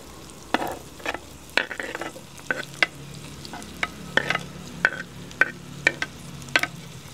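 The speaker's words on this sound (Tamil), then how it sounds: "இப்போ எல்லாத்தையும் சேர்த்து நல்லா கிளறிடுவோம். கிளறி இந்த எண்ணெயில் நல்லா வதங்கி வரட்டும்." Onion, green chili and potato fry in hot oil while being stirred, giving a steady soft sizzle broken by a dozen sharp scraping clacks of the spoon against the pan at an uneven pace, close and alone.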